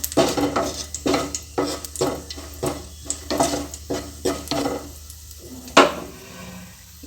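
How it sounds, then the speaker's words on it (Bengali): Cashews frying in ghee in a pan, a soft sizzle under rhythmic scraping strokes of a spoon against the pan, about a dozen close strokes, with a sharp clink near the end. "কাজুটাকে ভালো করে ভেজে নেব।"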